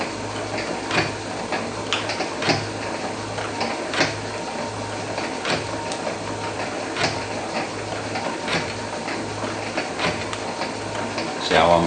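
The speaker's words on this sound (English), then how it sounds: "Now we're cutting that weld." An Atlas metal shaper cutting through a weld, its ram stroking back and forth in a steady repeating rhythm of sharp ticking cuts over a constant low machine hum, fairly close and continuous.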